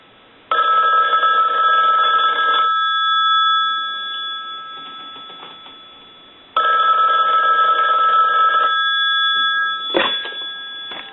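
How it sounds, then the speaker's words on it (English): ITT rotary dial desk telephone, freshly repaired, its bell ringing loudly in two long bursts of about two seconds each separated by a pause, close up, followed by a brief clatter as the handset is handled, no talk. "I'll go ahead and ring the telephone."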